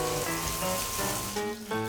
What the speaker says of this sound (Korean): 튀기듯이 이거 생선을 하시네요.